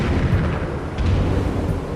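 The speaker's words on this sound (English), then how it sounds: "Let's throw a bomb into the next one here." A bomb blast in Zelda: Skyward Sword HD on Switch: a deep, rumbling boom that swells and rolls on through the whole two seconds, loud and with no talking.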